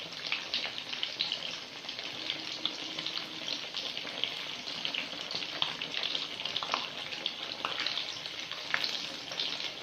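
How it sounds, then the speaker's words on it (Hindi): Potato tikki cutlets sizzle steadily in oil over a low flame, a soft, even crackle with small pops and no talking. "हल्की आग पे हमने इसे फ्राई किया है"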